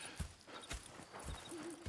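Horses in the video game Red Dead Redemption 2, hooves clip-clopping in a few soft, uneven steps against quiet background ambience.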